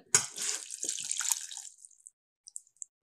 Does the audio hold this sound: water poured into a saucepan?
yes